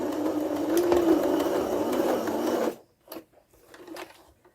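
A sewing machine back stitching a fabric face covering whirs in one steady burst for about three seconds, then stops, leaving a few faint handling clicks.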